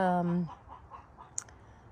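A hen gives one loud, drawn-out call, then softer clucks continue faintly in the background.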